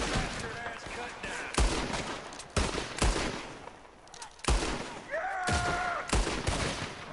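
Revolver shots in Red Dead Redemption 2 crack out one at a time, about six loud reports spaced unevenly across several seconds, with a voice talking faintly between them.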